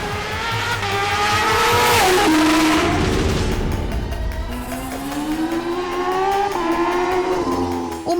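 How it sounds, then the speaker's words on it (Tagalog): Kawasaki H2R supercharged superbike riding at speed, a loud continuous engine roar with rising and falling pitch as the rider shifts and accelerates, close and steady throughout. "This is the Kawasaki H2R, reputed to be the fastest production bike on the planet right now."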